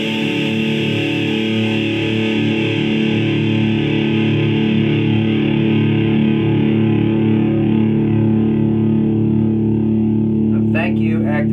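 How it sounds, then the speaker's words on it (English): A heavily distorted electric guitar with EMG active pickups rings out through an amplifier's own distortion, no effects, sustained chords droning steadily for several seconds, loud and thick. "Switching on to the distortion that you can get out of just the amp."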